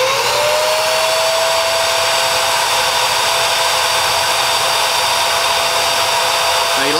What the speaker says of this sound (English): the bottom toggle switch will turn the vacuum on